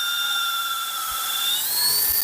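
A power drill bores into the trunk of a yang na tree, a loud, close, steady high whine whose pitch rises slightly as the bit works deeper into the wood.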